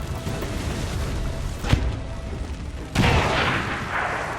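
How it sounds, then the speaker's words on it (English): A grenade launcher's high-angle bombardment in XCOM 2: a sharp launch crack, then a heavier blast with a rumbling roar that lingers loud to the end. "Flores launches one of those tricks in a high-angle bombardment"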